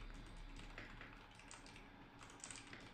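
Mechanical keyboard keys click in quick, steady typing, faint and slightly distant over a constant background hiss during a gaming session with friends.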